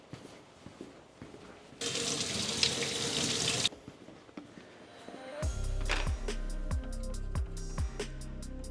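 Water from a hose or tap splashes steadily onto a Yarbo robot mower being rinsed off at home, a loud continuous wash lasting a couple of seconds, followed by clattering and knocking handling sounds.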